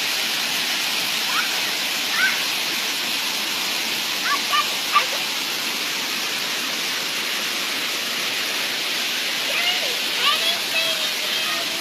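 A waterfall on open land rushes as a steady, full hiss throughout, with faint scattered voices and small sounds in the background.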